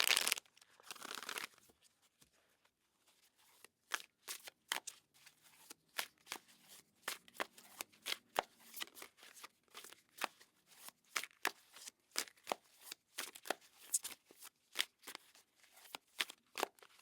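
A tarot deck is shuffled up close in quiet: rapid, irregular flurries of crisp card riffles and slaps, brief bursts separated by short pauses, no talk.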